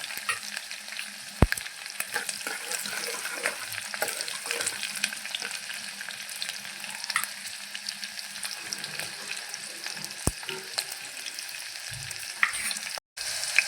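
Garlic and green chillies fry in oil for a dal tempering, a dense, even crackling sizzle sustained for several seconds with occasional sharp pops and a brief knock near the end.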